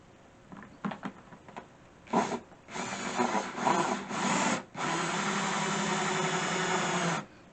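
A power drill bores holes for a hydroponic Kratky setup: a few short bursts and stop-start whirs, then one long steady drilling run, close and loud.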